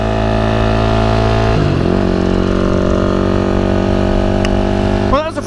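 Motorcycle ridden along a dirt trail and onto a bike path beside a golf course, its engine droning steadily and loud throughout with a brief shift in pitch midway and a rising rev near the end.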